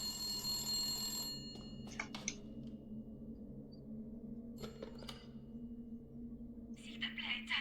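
A telephone rings in Resident Evil 8, repeated bright trilling bursts at spaced intervals over a low ambient game drone, with a voice speaking faintly beneath.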